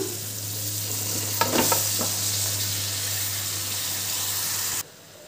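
Half-boiled noodles for hotel-style veg hakka noodles tossed into a hot pan, a steady sizzle and hiss with a few scraping stirs near the start, close and alone without talk until it cuts off.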